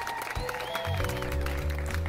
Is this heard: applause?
yes